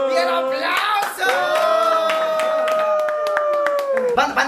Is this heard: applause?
yes